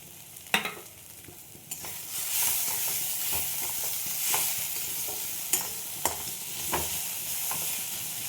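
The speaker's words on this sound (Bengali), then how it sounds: "এবার আমি শুকনো লঙ্কা, বড়ি, বাদাম এগুলো সব দিয়ে দেবো" Dried red chillies, bori lentil dumplings and peanuts frying in oil in a pan give a steady close sizzle, broken now and then by sharp clinks and scrapes from stirring.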